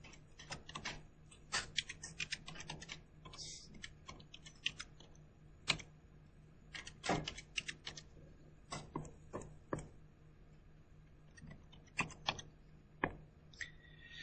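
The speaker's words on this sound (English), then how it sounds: "Worth practicing typing this in." Fingers tapping keys on a calculator while entering a physics expression, a quiet irregular series of sharp clicks and taps with short pauses between bursts, close and without talk.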